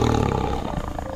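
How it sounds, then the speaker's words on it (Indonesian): A deep, rumbling tiger roar, loud and close, sustained throughout with a rough growling texture. "Bukan hanya suara auman atau geraman harimau"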